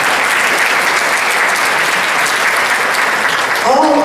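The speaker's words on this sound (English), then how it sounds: "Let's give Don Howard a big round of applause" A big round of applause for Don Howard at an evening awards gala, dense and steady from a large audience for about four seconds, with a voice briefly rising at the end.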